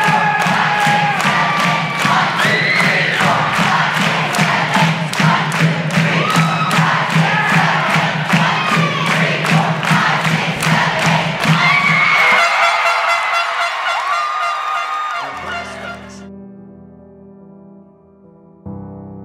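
A large arena crowd roars and cheers for a cheerleading team named national champions, loud and sustained with rhythmic thumping and shouts, then the noise cuts away abruptly near the end, leaving music-like tones and quiet.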